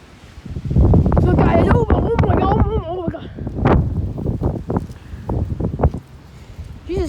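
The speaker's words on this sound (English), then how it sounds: "it's starting to get so windy" Strong gusting wind of an approaching thunderstorm buffets the microphone outdoors in a low roaring rush, with a person talking over it throughout.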